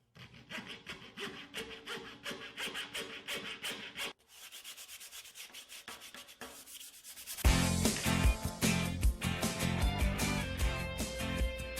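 A plywood template for a wind turbine's wing angle gauge is cut by hand with rapid, rhythmic rasping strokes. The strokes pause for a few seconds, then return louder and harsher, closer up and more aggressive.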